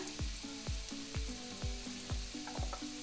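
Yellow capsicum frying in a pan for vegetable upma, with a steady close sizzle broken by regular scraping stirs about twice a second, no voices.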